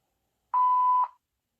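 A single clear answering machine beep, a steady electronic tone lasting about half a second, loud and alone after silence.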